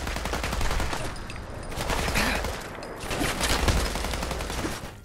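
Rapid gunfire from a modded rifle in Fallout 4, dense and sustained bursts of shots filling the whole stretch with a steady loud roar, no talking over it.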